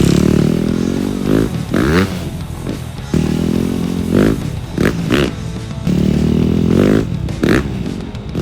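A big motorcycle riding up a homemade ramp, its engine revving and dropping in repeated surges, close and loud, with some clattering along the way.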